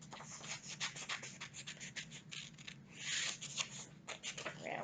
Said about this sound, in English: And now I'm going to cut it out.